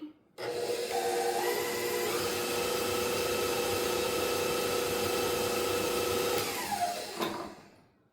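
Peanut butter frosting mixed in a bowl with an electric mixer, a steady whirring drone with a rubbing grind that starts abruptly and runs for about seven seconds before winding down, with no speech.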